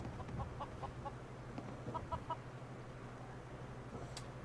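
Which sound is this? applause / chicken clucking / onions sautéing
chicken clucking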